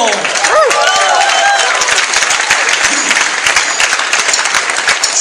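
A live stage show audience breaks into loud, dense applause for a musical group, a continuous wash of many hands clapping close by, with a brief cheer or whistle near the start.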